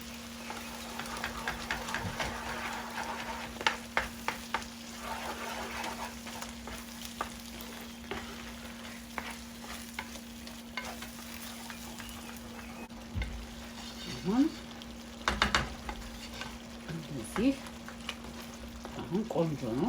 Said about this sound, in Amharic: ሲንተከተክ ደግሞ ትንሽ ውሃውን ይቀንሳል አይደል?